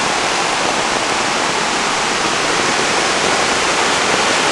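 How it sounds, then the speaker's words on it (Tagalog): Heavy rain sends a large volume of water rushing past in a steady, loud torrent, a dense unbroken hiss and roar close by with no pauses. "Ganyan na karaming volume ng tubig ang maagos dito."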